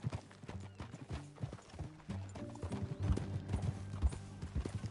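Horse hooves clip-clop in a steady walking rhythm in Red Dead Redemption 2, fairly close, with a soft snort and faint background voices and music.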